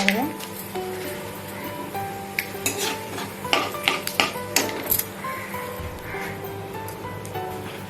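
Onions frying in a pan until brown, a bright steady sizzle with frequent clinks and scrapes of a spoon against the pan, and a voice speaking faintly underneath.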